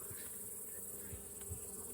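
Honeybees swarm and buzz over an opened beehive, a dense, steady drone that fills the whole clip close up, with no voices.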